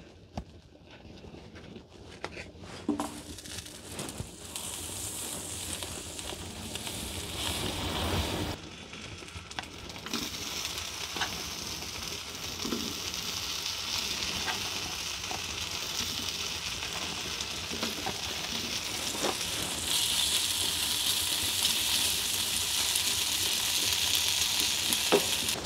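Butter sizzles and fries in a pan over a cooking fire at a sub-zero winter camp, a steady broad hiss that swells louder over time with occasional stirring scrapes and clinks.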